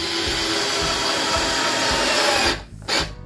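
An INGCO 8V cordless drill whirs at maximum speed, loud and close, then cuts off, gives one short burst and stops again.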